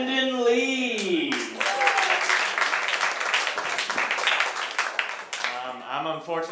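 Comedy club audience breaks into applause and cheering as a comic takes the stage, dense clapping sustained for several seconds after a brief announcer voice, then fading as the comic begins talking.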